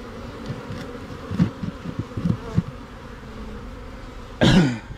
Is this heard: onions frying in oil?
no